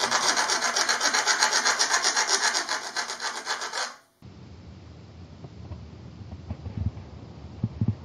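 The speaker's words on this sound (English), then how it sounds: "What I still want to do then is file these rough edges because that's been sawn through." Rough sawn edges of a part for a DIY lithium battery being filed by hand, a steady rhythmic rasping of quick strokes that stops around the halfway point, followed by quieter handling noises.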